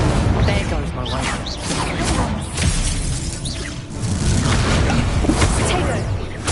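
A fire spell, Incendio, cast in Hogwarts Legacy, bursts out as a loud, dense crackling blaze with whooshing flare-ups under steady game noise and a speaking voice throughout.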